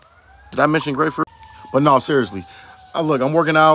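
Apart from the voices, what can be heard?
emergency vehicle sirens in background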